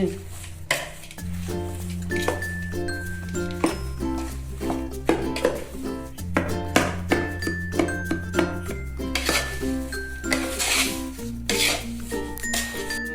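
A spoon scrapes and clinks against a pan while stirring an adadiya mixture, making repeated metallic knocks in an uneven rhythm over steady background music.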